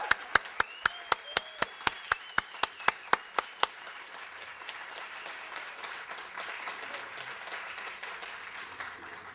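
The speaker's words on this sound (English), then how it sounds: "oh yes, let's give him applause." At a public art presentation, a single sharp, evenly spaced clapping starts close by, then a wider audience joins in with softer, scattered applause that continues and gradually thins out.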